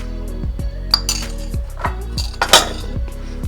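Dry ingredients for chocolate cake, including salt, baking powder and baking soda, being mixed in a bowl: repeated clinks and scrapes of a utensil against the bowl in an uneven rhythm, close and clear.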